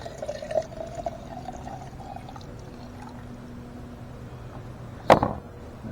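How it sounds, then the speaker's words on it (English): Dirty water from cleaning a car's air conditioning parts pours out of a jar in one short, splashing gush near the end, after a few seconds of quiet background hum. "Yeah, that was pretty dirty water that came out of there."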